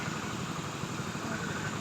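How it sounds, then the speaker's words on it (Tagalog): A large breathing-air compressor runs continuously with a steady low mechanical drone and broadband hiss, even and unbroken throughout, with no voices present. "Dyan sa compressor na yan, yung makina na yan, na malaki."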